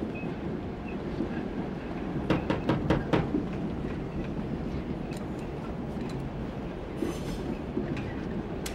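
A train pulls into Hollywood station, its steady low rumble carrying a run of rapid clacking wheel beats near the start and brief squealing hiss later, with no voices over it.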